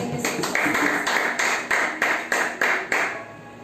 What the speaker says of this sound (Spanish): Démosle ese aplauso fuerte al Señor Jesucristo